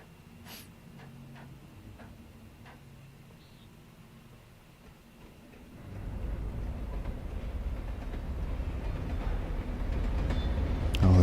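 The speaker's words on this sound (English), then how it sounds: "But I guess we gotta dodge the train too." A train approaches on a bridge in the video game Alan Wake, starting as quiet ambience with faint sounds, then a low rumbling roar swells in about halfway through and keeps building louder toward the end.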